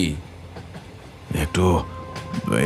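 A moving train rumbles steadily underneath a Bengali thriller audio drama, staying in the background while voices talk over it.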